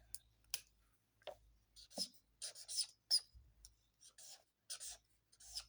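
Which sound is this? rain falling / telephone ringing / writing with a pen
writing with a pen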